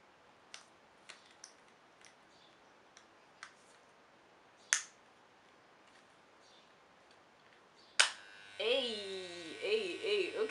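Electric hair clippers set with a quarter-inch guard start up near the end, giving a close, steady buzz after a few scattered clicks and snaps.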